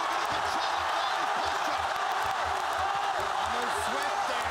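Dense, steady roar of an arena crowd cheering at a ONE Championship MMA bout featuring Aung La N Sang, heard continuously at high level with a commentator's voice running beneath it.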